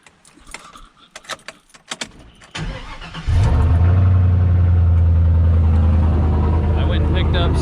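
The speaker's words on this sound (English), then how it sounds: "the pickup started real quick" A pickup truck engine cranks and catches after some rattling and handling sounds, then settles into a steady, loud idle close by on a rainy morning in Idaho.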